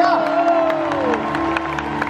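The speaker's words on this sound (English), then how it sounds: "Can you please give the choir a big round of applause" Audience applause and cheering for a choir at a live performance, steady crowd clapping with whoops, with a sustained tonal sound underneath.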